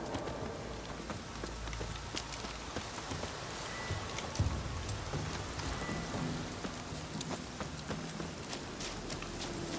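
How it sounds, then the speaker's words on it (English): Steady rain in the video game The Witcher 3: Wild Hunt patters continuously on surfaces, with scattered louder drops and a faint low rumble underneath. "Looks like rain."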